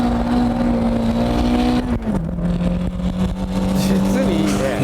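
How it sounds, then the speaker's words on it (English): A car engine held at full throttle while drifting roars loudly and close, its pitch steady and then dropping sharply after a shift before climbing again, with a voice talking over it. "I'm literally flooring it the entire way."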